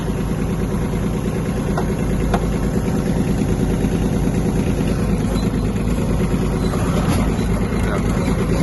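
The diesel engine of a Kubota A-15 Japanese mini tractor idles steadily and loudly close by, a constant low rumbling drone with a few faint clicks over it.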